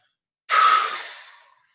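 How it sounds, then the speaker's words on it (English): A single big deep breath, one long airy exhale close to the microphone, starting abruptly and fading gradually over about a second in an otherwise silent setting. "So let's take a big deep breath in. All right, hold it for a second, and then big breath out."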